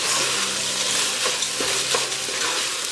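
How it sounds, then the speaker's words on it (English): Rice parching and sizzling in a hot pot for Guyanese shine rice, a steady close frying hiss with occasional stirring scrapes and clinks, no talking. "I'm going to put my rice now. I'm going to let it parch a bit."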